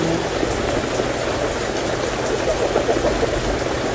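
Steady rain hisses evenly throughout, a dense wash of falling water with no voices, close and constant.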